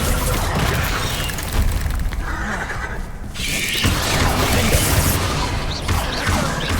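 A Bombarda spell explosion in the video game Hogwarts Legacy: a loud crashing blast with a rumbling, debris-filled tail amid continuous combat noise, followed by a second burst of impacts.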